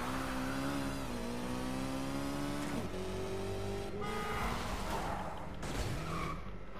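A 1971 Nissan Skyline GT-R engine in a Need for Speed video game drones loudly and continuously, its pitch climbing and dropping through gear shifts as the car accelerates.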